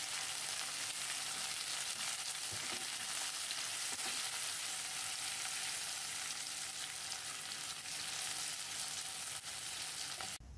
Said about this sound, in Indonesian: Kemudian digosreng-gosreng kembali sampai cabainya layu.